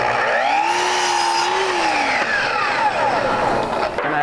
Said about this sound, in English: To cut that, all I have to do is swing the saw in the opposite direction.